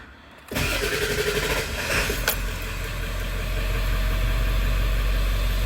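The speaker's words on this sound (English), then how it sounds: "See, now your truck is actually running on pure Seafoam right now." A 7.3 Powerstroke diesel truck engine cranks and fires after a brief quiet moment, then settles into a steady, loud rough idle while running on Seafoam, with a low rumble continuing throughout.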